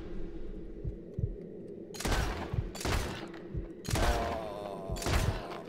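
Rapid bursts of video-game gunfire from Red Dead Redemption II as a whole magazine is emptied, several loud clustered volleys spaced over a few seconds above a low background rumble.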